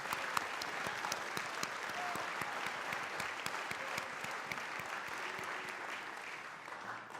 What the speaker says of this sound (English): let's give you a big round of applause as well